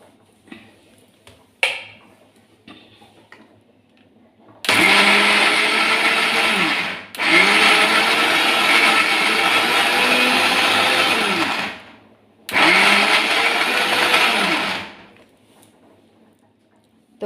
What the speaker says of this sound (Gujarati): તો આપણે એને મિક્સરમાં વાટી લઈશું.